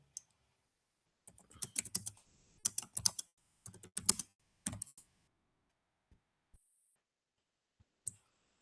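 Bursts of quick typing on a computer keyboard, close and clear, in several short runs separated by pauses, ending with a few isolated key taps in a quiet room.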